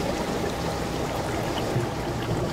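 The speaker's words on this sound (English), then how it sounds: "The water is draining." Water drains away in The Talos Principle, a steady pouring, trickling rush that runs alone at an even level, with no voices over it.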